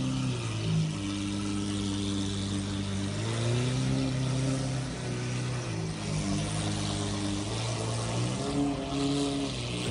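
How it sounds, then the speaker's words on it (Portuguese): Lamborghini Aventador SVJ with a straight exhaust, its engine droning loudly at idle and rising and falling through several revs, a harmonic V12-style growl heard close by and alone. "vamos dar uma olhada aqui nesse de escape direto. É uma SVJ."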